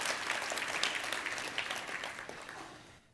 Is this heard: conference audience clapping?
yes